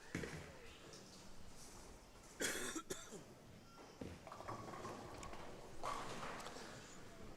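A cough at a bowling tournament finals broadcast, one short burst close to the microphone, with general hall noise and some talk around it.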